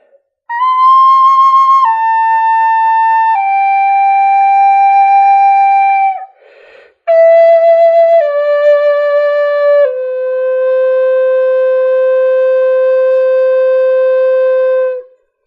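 Side-blown spirit flute playing slow sustained notes, stepping downward one at a time from the highest, clear and loud with a brief breathy pause midway and no talk.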